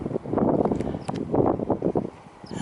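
Strong wind buffets the microphone beside Llyn Ogwen lake, loud rumbling gusts rising and falling in close, rough bursts with no talking.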